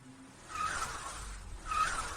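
A car pulls up at night with a faint rising engine and tire noise, swelling twice over a low rumble, at moderate distance with no talking.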